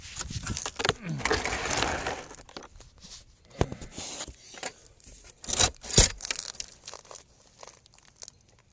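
Ratchet tightening bolts on homemade solar panel mounting brackets, a run of close, sharp clicking and crinkly mechanical rasps in uneven bursts, with quieter gaps between strokes.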